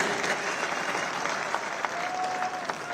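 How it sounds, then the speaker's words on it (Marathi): A political rally crowd in Thane claps in a dense, sustained round of applause, filling the space with steady patter and a few louder claps, no voice over it. "निष्ठावान या शब्दावर किती टाळ्या पडल्या पहा."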